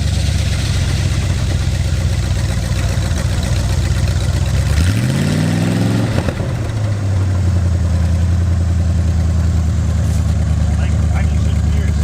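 A long-dead vehicle's revived engine running after a restoration, a loud steady idle that rises in a rev and then settles back to a rough drone, with people talking throughout.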